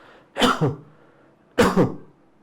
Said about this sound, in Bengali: এইরকম করে একটা কাশি ক্রিয়েট করতেছে